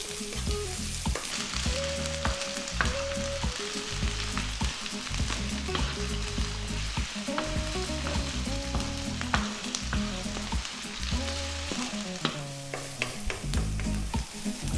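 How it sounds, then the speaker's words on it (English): Onion fries over high heat in a single pan for Thai chicken fried rice, a dense continuous sizzle broken by frequent scraping and clattering as it is stirred and kept moving, loud and close with no talk. "Then we're going to go with the onion. High heat, 3 minutes, keep it moving."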